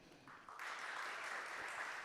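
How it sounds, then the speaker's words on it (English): Faint applause from a conference audience as a speaker is invited on stage, starting quietly and swelling into a steady, distant wash of clapping. "Big applause for him."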